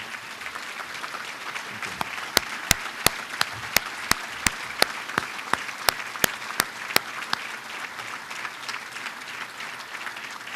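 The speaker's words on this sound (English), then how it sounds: "we can give you a round of applause" Steady applause from a dinner audience honouring veterans, dense clapping throughout, with a regular series of sharp, loud claps standing out above the crowd.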